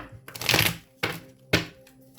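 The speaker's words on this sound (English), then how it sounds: "Let me shuffle these up again." A deck of tarot cards is shuffled by hand in three quick bursts, the first a longer riffle and the next two short snaps, close and fairly quiet with no talking.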